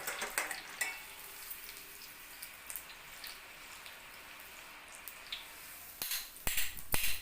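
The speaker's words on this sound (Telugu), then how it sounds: "ఇదిగో అలా ముంచి అలా వెంటనే ఆయిల్లో డిప్ చేసేయాలండి" Soft, quiet sizzling of rose cookie batter frying in oil, with a few louder crackles and bursts near the end.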